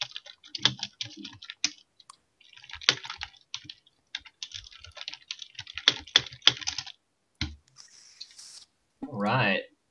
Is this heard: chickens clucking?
no